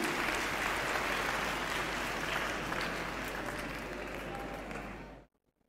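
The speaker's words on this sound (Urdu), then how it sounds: "بہت ساری تالیوں میں۔" Sustained applause from an audience at a stage ceremony, a full and even roar of clapping that holds steady and then cuts off abruptly.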